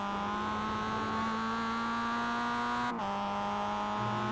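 A Mazda MX-5 race car engine in the iRacing simulator holds a steady, loud buzzing drone, with a sudden brief break as it shifts before the pitch rises again under acceleration, and no talking.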